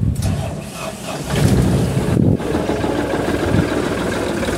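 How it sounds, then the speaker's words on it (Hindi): A second-hand Toofan Cruiser's engine turns over and settles into a steady, rumbling idle, loud and close throughout with a brief dip partway through, and no talking over it. "ये इंजन कंडीशन देख लीजिए दोस्तों और आइए हम इसको स्टार्ट करते हैं।"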